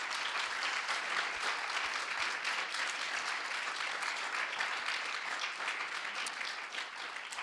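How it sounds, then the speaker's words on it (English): A conference audience applauds a panel discussion at a forum session, continuous dense clapping holding steady throughout and easing slightly near the end. "Please give them a round of applause."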